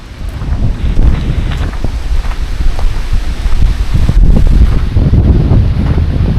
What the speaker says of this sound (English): this is really windy out here